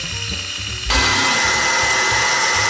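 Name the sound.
band saw cutting wood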